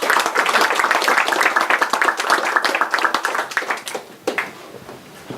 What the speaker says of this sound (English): you just give him a round of applause and welcome Tom